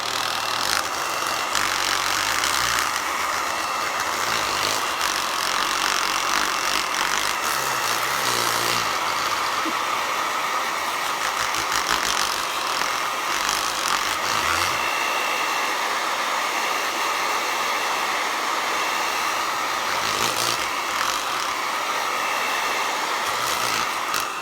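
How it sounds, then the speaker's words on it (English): Hair dryer blowing on freshly painted mason jars, a loud steady whooshing hum running without a break, with slight wavers as the airflow shifts. "let's go ahead and dry these with the hairdryer right quick"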